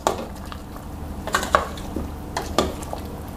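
A spoon stirs pork leg soup in a pot with kaffir lime leaves, sliced lemongrass and galangal, giving a few scattered scrapes and soft clinks against the pot over a low simmering background, with no talking.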